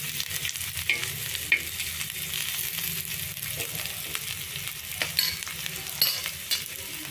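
Onion and garlic frying in a pan for a street-side veg burger, a continuous close sizzle with occasional scraping stirs and no talk.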